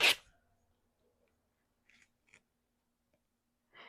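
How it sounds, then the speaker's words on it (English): Scissors snipping a notch into a small paper scrap, a crisp cut at the start followed by quiet gaps and a couple of soft paper rustles or tears, then another brief rip at the end. "I'm going to just cut a little notch there and tear it"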